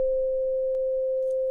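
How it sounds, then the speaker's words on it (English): A pure sine-wave tone from the Copperhead digital synth app on an iPad, with its default reverb turned off. The clean, steady mid-pitched note holds unbroken and loud for the whole stretch, with a faint click partway through. "So here's your sine wave."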